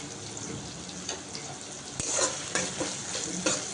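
A paste of cumin, coriander and chili powder fries with tomato in a pan, giving a steady close sizzle broken by several scraping stir strokes, with no talking.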